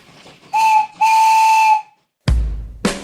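A steam train at a station sounds its whistle in two loud, steady, bright blasts, the second one longer, followed by sharp bursts of hissing steam.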